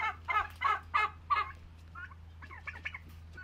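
A male turkey scuffles with a rooster nearby, with several loud, harsh squawking bursts followed by softer, scattered clucks and gobbling calls.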